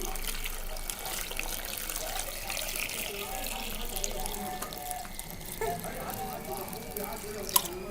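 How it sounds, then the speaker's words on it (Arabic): Water poured into a jar of lemons for lemon pickle with safflower and nigella seeds, a steady close trickling and splashing stream throughout with a small clink near the end. "وبعدين هفضي الميه بتاعتي لحد لما تغطي الليمون بتاعي."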